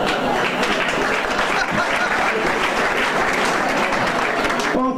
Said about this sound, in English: thanks for clapping